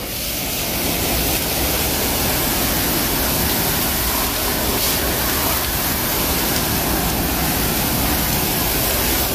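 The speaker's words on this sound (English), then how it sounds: "now we're going to rinse, and we're just going to do it with a water hose here" A water hose sprays and rinses a surface top to bottom after an oxidation-removal treatment, a dense, loud, steady hiss of spray running without break.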